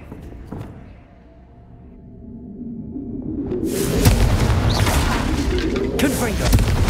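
A Confringo blasting spell exploding in the game Hogwarts Legacy, a sudden loud boom that swells into sustained crashing and rumbling debris, with a voice speaking around it.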